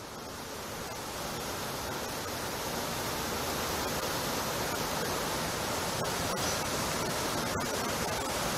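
Waterfall in the game Final Fantasy XV Pocket Edition, a steady hiss of falling water that swells slightly at the start and then holds constant and fairly loud, with a few faint clicks and no talking.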